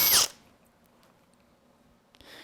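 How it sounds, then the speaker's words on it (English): A small 1/8 inch drill bit boring through polycarbonate, a short loud burst of high whirring at the start, then near quiet with faint handling, and a brief return of tool noise at the end. "and just drill straight through."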